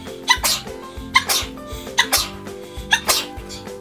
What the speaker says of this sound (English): Excuse my nasty sneezing